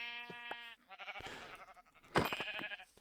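Video game sheep bleat a few times, quavering calls close and clear over quiet background, with a brief rustle between them.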